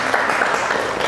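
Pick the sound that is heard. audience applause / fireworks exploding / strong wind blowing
audience applause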